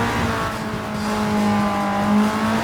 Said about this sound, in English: you hear the engine as if you would hear it if you were inside the car. You hear that turbo spooling.